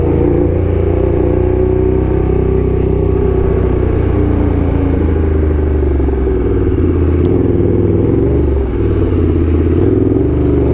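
Motorcycle traffic on a road in Manila, heard from on a bike as steady loud engine drone and rumble with shifting revs from several vehicles close by, continuous throughout.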